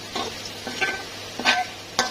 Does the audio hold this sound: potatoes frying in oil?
yes